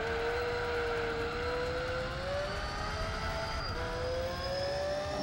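Storm V12 supercar engine in a racing game at Mazda Raceway, a steady high-pitched whine held at full throttle with slowly rising pitch, loud and continuous without a break.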